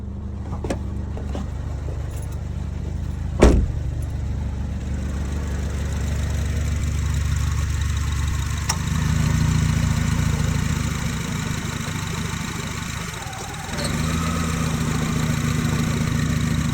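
A 2006–2011 Honda Civic engine idles steadily nearby, with a brief sharp knock and a couple of gentle swells as gas is given, loud and continuous without talking.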